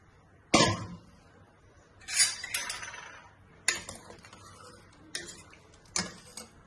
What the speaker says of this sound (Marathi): आता कुकर थंड झालो, आता आपण उघडून बघूया।